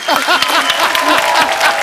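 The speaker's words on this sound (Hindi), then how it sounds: "साइना के लिए जोरदार तालियां।" A television comedy talk-show studio audience applauds and cheers for badminton star Saina, with loud, dense clapping and excited voices throughout the short burst.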